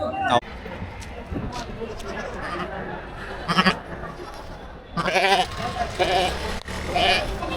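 Goats bleating repeatedly at a busy Ranipet livestock market, several loud nearby calls rising over a constant crowd hubbub and people talking.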